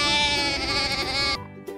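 Recorded sheep bleats from a toy Numberblocks sheep farm play set, a loud, steady electronic bleat lasting over a second, then cutting off abruptly into a brief quiet tail.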